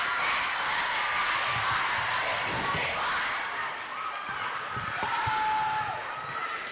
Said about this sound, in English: You hear the student section cheering very loudly down the bottom.